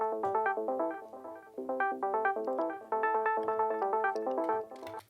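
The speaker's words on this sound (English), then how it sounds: "It's like a Juno ARP thing from this Juno emulation from Arturia." Arpeggiated Juno-style synth from an Arturia Juno emulation in a 90s UK garage production, a steady stream of quick bright plucked notes cycling through chords, moderately quiet and spacey, with no voices.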